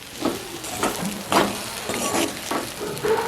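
Plantain cooking in a pan is stirred with a utensil, a soft frying sizzle broken by several rhythmic scraping strokes about every half second, close and moderately loud with no talk.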